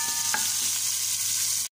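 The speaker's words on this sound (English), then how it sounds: "Lagyan ako ng mantika sa ating kaldero or kawali. Ilalagay na natin yung ating sibuyas. Igisa lang natin." Onions sautéing in oil in a cooking pot for chicken curry, a steady close hiss and sizzle with faint stirring scrapes, alone without talk, cutting off abruptly at the end.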